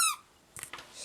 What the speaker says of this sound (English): And here's my rat. Squeaky.